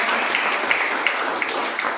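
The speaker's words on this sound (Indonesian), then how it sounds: "Kasih tepuk tangan bagi nama Tuhan" A church congregation applauds in a dense, steady wash of clapping lasting about two seconds, with no voices standing out.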